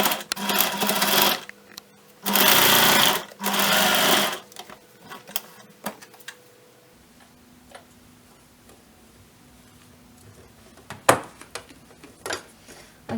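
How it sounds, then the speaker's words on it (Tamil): Home sewing machine stitching the folded 1 cm edge of a homemade fabric face mask, with three loud close bursts of rapid mechanical whirring in the opening seconds, then quiet pauses broken by faint ticks and clicks. "ஃபோல்ட் பண்ணி ஒரு ஸ்டிச் போட்டுருங்க."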